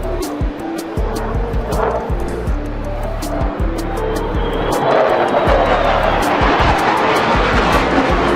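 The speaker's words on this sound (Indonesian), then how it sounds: "Pesawat pengebom B-2 milik Angkatan Udara Amerika Serikat terbang di atas kepala Presiden Rusia Vladimir Putin" US Air Force B-2 stealth bomber flying overhead at a Trump–Putin meeting, a broad jet roar swelling steadily from moderate to loud, with scattered camera clicks and crowd noise beneath.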